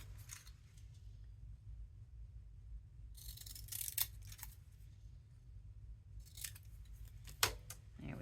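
Scissors snip paper a few times in short crisp bursts over a low steady hum, with quiet rustling between the cuts.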